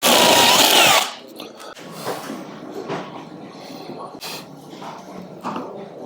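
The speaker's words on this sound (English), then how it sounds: "it wants me to drill this hole out as well to position a riv nut" A power drill bores out a hole for a rivnut on a Discovery raised air intake fitting: a loud, close whine of about a second, then quieter scraping, clunks and handling noise.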